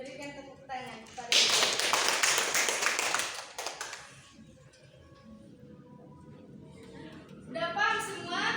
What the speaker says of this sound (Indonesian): berikan tepuk tangan kepada